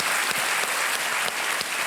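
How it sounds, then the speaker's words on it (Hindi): Studio audience on a televised quiz show bursts into steady, loud applause, dense continuous clapping filling the whole moment without voices. "तालियों के साथ इनका अभिनंदन हम करते हैं।"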